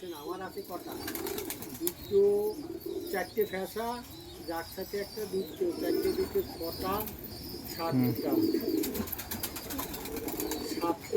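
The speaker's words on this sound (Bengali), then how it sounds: "পাপস পায়রা খুব কমই দেখা যায় এখন এত বড় বড় পাপস" Large pouter pigeons coo in repeated low, throaty bursts, close by and fairly clear, with some chirps and fluttering among them. Quiet voices talk in the background.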